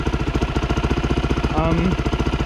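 SSR 250 dirt bike fitted with a TTR 250 carburetor and a US Forest Service spark arrestor, idling close by with a steady, even thumping pulse and no RPM sway, a faint voice briefly overlapping.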